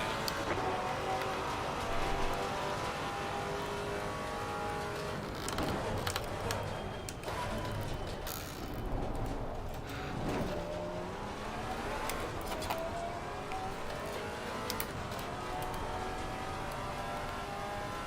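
Race car engines in Assetto Corsa Competizione at Circuit of the Americas, including a Maserati GT4, drone steadily with revving shifts and passing cars, loud and continuous throughout.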